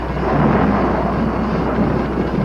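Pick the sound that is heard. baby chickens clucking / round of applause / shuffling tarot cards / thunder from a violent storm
thunder from a violent storm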